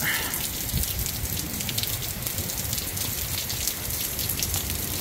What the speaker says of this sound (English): seems like the rain is letting up a little bit.